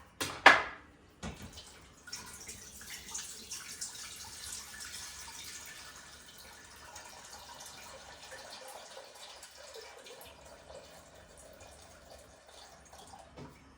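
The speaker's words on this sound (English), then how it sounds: "how much water am I gonna need for the spinach" Tap water runs steadily into a pot for cooking spinach, opening with a splashy gush before settling into a faint, continuous flow.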